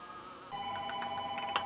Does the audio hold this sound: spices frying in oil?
no